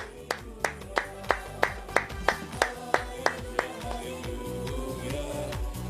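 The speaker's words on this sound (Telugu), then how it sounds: "పక్కన వారు గట్టిగా చప్పలు కొడతాం." A group claps for a birthday celebration in a church, roughly a dozen sharp, evenly spaced claps in the first few seconds, then fading into softer scattered clapping over background music.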